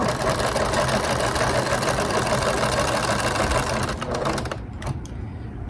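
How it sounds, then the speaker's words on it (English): Sewing machine back stitching fabric while sewing a shirred dress, a loud, continuous rapid whirring and clatter up close that slows and stops near the end. "I'm going to back stitch a couple stitches again"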